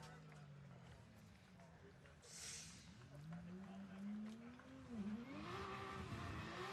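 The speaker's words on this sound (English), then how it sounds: "So I can hear tyres being warmed up in the background." Drift cars at a UKDC pro battle round in Teesside, including a 2JZ-powered GT86, with distant engines revving and tyres squealing in rising and falling sweeps under ambient crowd noise.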